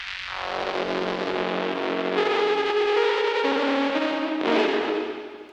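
A continuous musical tone run through a lo-fi effect, sounding filtered, distorted and slightly warbling, steady and fairly loud throughout.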